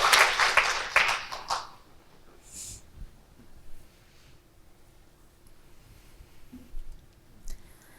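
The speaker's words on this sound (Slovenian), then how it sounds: "Še en aplavz za vse prejemnike." Applause at a Slovenian medical chamber awards ceremony for the award recipients: a burst of clapping from the audience that fades out after about two seconds, followed by quiet room tone with a few scattered claps.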